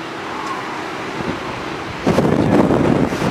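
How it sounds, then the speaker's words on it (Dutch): Wind rushes steadily across an open ship deck, gusting louder and rougher partway through, buffeting the microphone. "er staat een pittig windje boven."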